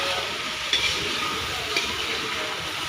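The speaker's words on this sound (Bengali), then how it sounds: "এই একটু লেড়ে দেবো এখন, না তো মাংসটা লেগে যাবে" Meat curry stirred in a pan while it cooks: a steady, close hiss of sizzling with faint scraping strokes of the spoon, a couple of soft clinks standing out, no voices.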